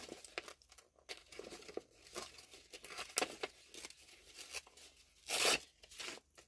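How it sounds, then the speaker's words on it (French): Paper is torn and crinkled by hand during a steampunk craft project, with several short, soft ripping bursts and rustles close by and a louder tear near the end. "J'ai envie de déchirer ça."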